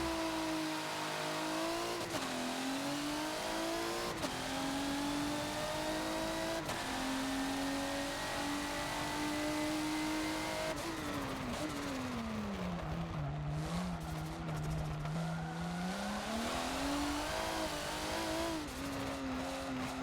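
Race car engine in the Forza racing game at the Nürburgring GP circuit, a loud continuous roar rising and falling through gear shifts and revs, with brief tire squeal under braking in places.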